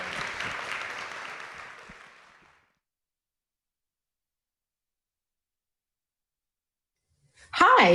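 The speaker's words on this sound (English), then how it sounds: "Round of applause for our panelists" Applause for the panelists at a military spouse employment summit, a broad crackle of clapping that fades out over about two and a half seconds, followed by silence and then a voice starting to speak.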